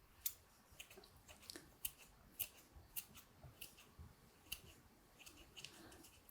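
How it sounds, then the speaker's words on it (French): Scissors snip through sprigs of fresh basil in a quick run of small crisp cuts and light rustles, heard up close and soft in a quiet room. "Et moi je vais les découper au ciseau."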